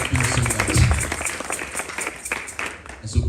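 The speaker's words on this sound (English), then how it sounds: "A round of applause for him as well" An audience at a leadership session gives a round of applause, a dense patter of many clapping hands that rises and falls over a few seconds. A speaker talks over it.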